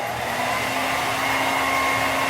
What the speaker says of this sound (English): You can use any hair dryer or a heat gun if you happen to have one.